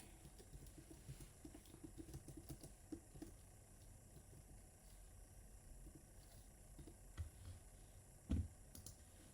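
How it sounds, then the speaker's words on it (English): Numbers being typed on a computer keyboard, heard as faint, scattered key clicks in short bursts over a low, steady room hum, with no voices. "I am just actually typing up some numbers online"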